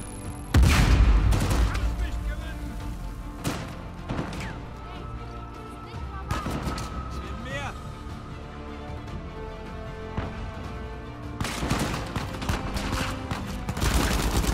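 Game gunfire in Uncharted 4 ending in a headshot: a string of sharp shots and crashing impacts spread across the clip, loud and close, with a heavy burst at the start and more firing near the end.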